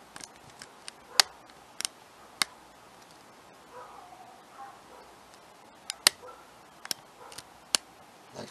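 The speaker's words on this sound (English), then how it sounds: "clicking and feedback on this thing. Maybe I should pick it and quit talking." Picking a challenge lock produces sparse, sharp metallic clicks and ticks, close and fairly crisp, scattered irregularly with quiet handling noise and pauses between them.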